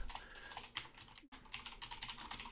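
Typing a preset name on a computer keyboard in Hitfilm Pro, a close, quiet run of rapid key clicks with one short pause midway, no voices.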